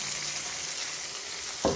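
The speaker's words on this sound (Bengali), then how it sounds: "এবারে দিয়ে দিলাম টমেটোটাকে কিছুক্ষণ ভেজে নেব।" Onion and tomato fry in a pan with a steady, even sizzle and hiss, and a short clatter comes near the end.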